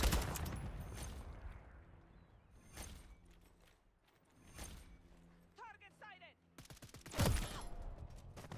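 Gunfire in Modern Warfare 3 hardcore multiplayer: several sharp bursts of shots scattered through the clip, some loud and close, others fainter, with a heavy final volley near the end.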